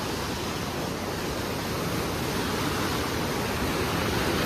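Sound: heavy water released through Koshi Barrage gates

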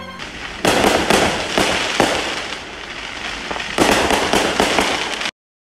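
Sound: Fourth of July fireworks

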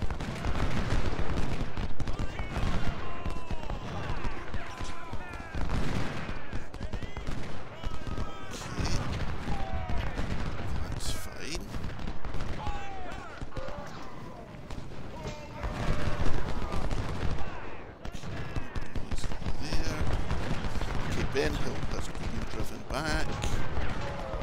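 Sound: Civil War battle gunfire in the video game Ultimate General: Civil War

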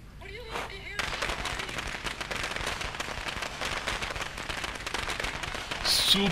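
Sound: firecrackers going off in video game Dead Rising 2

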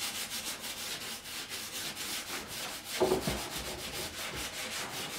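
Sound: very fine sandpaper buffing paint off a frame

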